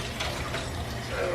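Warm water for proofing yeast pours in a steady, close, rushing splash that runs without a break.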